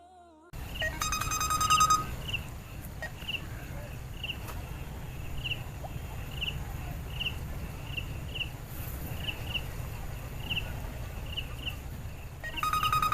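A phone rings unanswered with repeated electronic tones in an even rhythm over a low background hum, while faint voices and room noise sit underneath.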